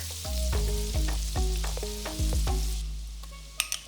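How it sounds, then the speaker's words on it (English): Minced garlic frying in melted vegan butter in a pan, a steady loud sizzle with repeated stirring scrapes and clinks, fading slightly toward the end. "stir in the minced garlic and cook for about 30 seconds until it's nice and fragrant"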